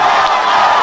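Loud, dense crowd roar at a high school baseball game, Longview Lobos against Frisco Reedy, cheering steadily and close throughout a brief burst.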